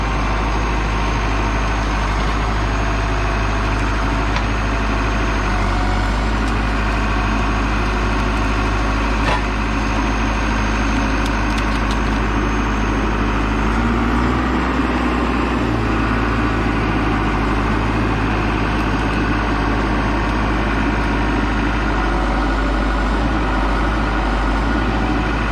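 A small tractor engine labors steadily while pulling a heavy load of big logs uphill, a loud, continuous low drone with no breaks and no voices.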